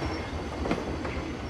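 A roller coaster train in the Planet Coaster video game rumbles along its track at speed, a continuous loud rolling roar with faint rattling and no talking.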